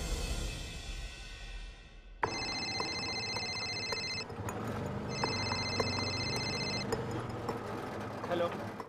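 A telephone rings with two long electronic trilling bursts separated by a short gap, loud and close over a steady rumble of traffic from an auto-rickshaw ride.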